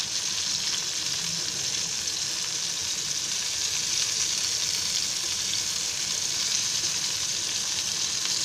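Stuffed bell peppers frying in oil in a pan: a steady, close sizzle with bright crackling hiss that runs evenly throughout without pause or talk.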